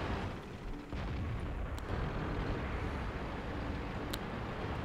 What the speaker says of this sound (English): Was that artillery coming down?